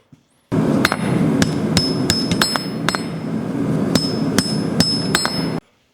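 A hammer strikes a hot hand-forged iron scroll on an anvil in a series of crisp, ringing metallic taps, irregularly spaced, close and loud.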